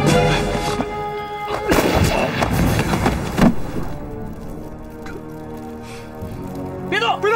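Gunshots in a Chinese TV drama scene come as a few loud, sharp bursts in the first half, mixed with shouting voices and chaotic noise.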